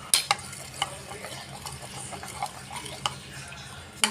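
Coconut oil being mixed into a homemade hair mask in a bowl produces quiet, close stirring with soft wet swishes and a few sharp clicks of a spoon against the container; no speech.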